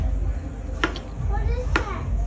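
A knife cuts through a watermelon with two sharp, crisp chopping strikes spaced about a second apart, close and clear over a faint room background.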